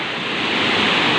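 Rushing water overflowing at a cave, a dense, steady roar that builds slightly in loudness, heard alone.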